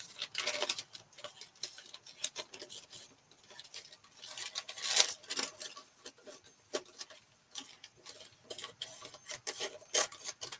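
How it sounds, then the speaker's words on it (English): Scissors trim the edge of a paper craft piece in a string of soft, rasping snips and rubbing strokes, close and quiet, repeating irregularly. "And I'll go ahead and just trim this."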